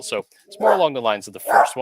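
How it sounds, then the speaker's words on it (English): A pet dog barks excitedly in the background, its yips and barks overlapping a person who keeps talking throughout. "Sorry about my dog going nuts."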